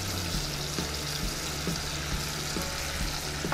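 Chicken fillet rolls fry in olive oil in a pan, a steady dense sizzle with faint crackles and no talking throughout.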